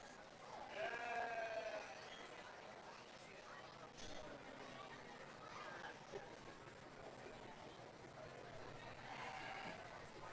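Sheep bleat in a county fair sheep show ring, a few wavering calls near the start and end over a steady crowd murmur and background hubbub.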